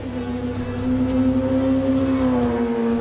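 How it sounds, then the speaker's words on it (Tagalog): Kawasaki ZX-10R sport bike fitted with an aftermarket exhaust, its engine holding a steady, loud droning note that rises slightly in pitch over a few seconds, close by with no voices. "At ang sarap naman talaga pakinggan ng exhaust notes ng ZX-10R, especially with the aftermarket exhaust na ikinabit sa review unit namin."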